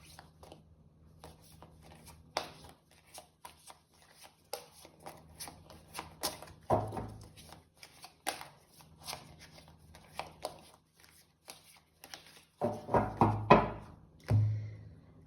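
Tarot cards are shuffled and handled in bursts of riffling and light slapping taps, close by, with quieter rustles in between and a few louder handling sounds.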